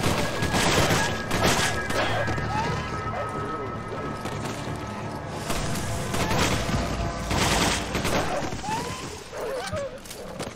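Handgun fire in Resident Evil 5, repeated sharp shots scattered through a busy game soundscape with other gunfire and crashes, while a player talks over much of the action.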